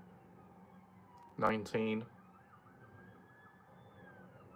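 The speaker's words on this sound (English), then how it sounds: "I can hear sirens. Police sirens outside." Faint police car sirens wail outside, a thin rising-and-falling tone in the background, while a person speaks briefly and loudly in the foreground.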